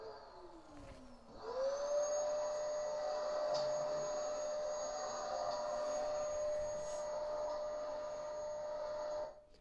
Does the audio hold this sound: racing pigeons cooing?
no